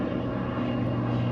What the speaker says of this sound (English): there's an airplane flying overhead